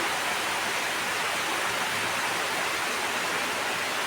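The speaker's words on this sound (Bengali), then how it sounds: "কেমন বৃষ্টি এই পরিষ্কার রোদ উঠে আবার বৃষ্টি নামে" Rain falls in a dense, even hiss with no breaks, steady and fairly loud throughout.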